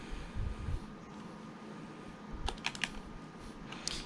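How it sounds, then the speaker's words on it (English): Bursts of typing on a GameSir VX2 keyboard produce crisp, close key clicks in a few quick clusters over a quiet, slightly noisy room. "The keyboard sounds absolutely amazing"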